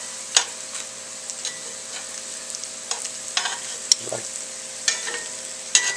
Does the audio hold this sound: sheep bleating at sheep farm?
no